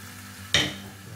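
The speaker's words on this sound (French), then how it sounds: "nous allons laisser mijoter pendant quelques minutes, le temps que les oignons deviennent translucides" Onions hit hot oil in a pan with a sudden close sizzle that flares up and then settles into a softer frying hiss.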